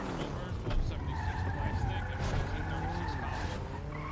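Tires squeal as a car skids and pulls away in a GTA-based roleplay game, a steady screech with engine drone running under a low murmur of voices throughout.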